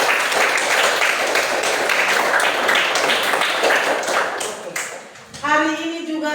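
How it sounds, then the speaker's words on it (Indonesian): Applause for a student in a classroom lesson: a dense, steady patter of many hands clapping for several seconds, thinning out toward the end as a voice begins speaking. "iya, tepuk tangan buat Sela."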